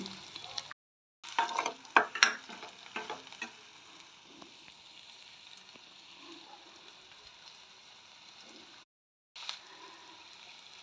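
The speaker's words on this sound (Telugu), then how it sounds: "వేగించాలి ఒక టూ మినిట్స్ చాలు ఎక్కువ కూడా అవసరం లేదు" Dried fish fries quietly in a pan, giving a soft, low sizzle. Near the start there are several brief silent gaps and a burst of clattering stirs.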